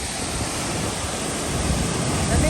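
Silverstone Falls pours in a steady broadband roar of rushing water, close and continuous, with wind noise on the microphone and no talk.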